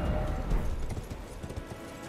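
Horse hooves galloping in the Elden Ring video game near Castle Morne; a continuous, fairly loud rhythmic clatter of hoofbeats that fades slightly toward the end, with no talk over it.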